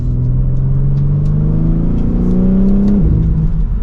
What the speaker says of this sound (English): We have the exhaust note on, and if I push on M1 here